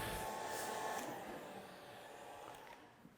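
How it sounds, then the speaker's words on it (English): A hair dryer runs during an art demonstration, a steady whooshing blower hum, fairly faint, that fades slightly partway through and then holds. "may I use my hair dryer?"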